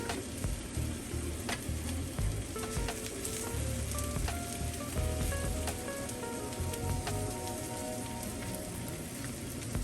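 A homemade burger patty sizzles steadily in a hot pan after being flipped, a dense crackling hiss with scattered pops, continuous and close, with no voices.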